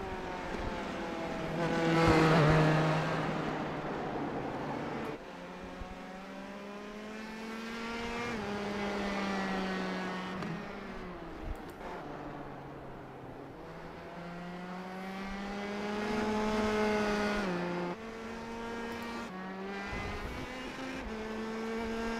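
A vintage open-wheel race car laps Indianapolis Motor Speedway in a Grand Prix Challenge, its engine heard loud and onboard, rising in pitch through the gears, then dropping on each shift and lift.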